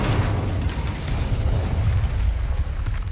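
Incendio fire spell cast in the video game Hogwarts Legacy, a loud, steady roaring whoosh of flame with a low rumbling body that continues for about three seconds, with no talking.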